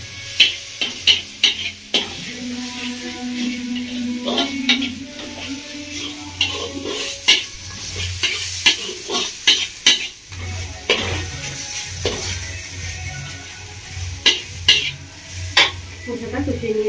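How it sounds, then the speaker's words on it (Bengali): A spice masala with Kashmiri chilli and salt is sautéed in a pan, a low sizzle under repeated scraping and knocking of a spoon against the metal, with irregular stirring strokes throughout. "ভালো করে মশলাটা কষিয়ে নেবো হবে।"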